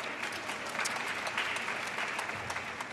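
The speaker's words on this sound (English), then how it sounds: "Please give a round of applause." A crowd applauds at the National Cherry Blossom Festival kick-off event as a celebrity guest is introduced, with dense, steady clapping that stays even in loudness from start to finish.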